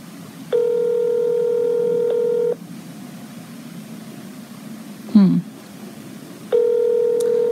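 Outgoing telephone call to IRS phone scammers, ringing unanswered: two long steady ringback tones separated by a pause, loud and clear, with a brief voice sound in the gap.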